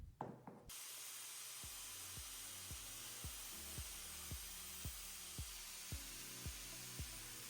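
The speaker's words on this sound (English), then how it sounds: "So I will go ahead and switch this on and do a couple of test sprays on my" A paint sprayer with a floor-standing motor test-sprays paint onto boards, giving a steady loud hiss after a brief startup, with a regular low pulsing thump repeating about twice a second beneath it.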